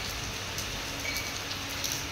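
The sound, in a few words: rain falling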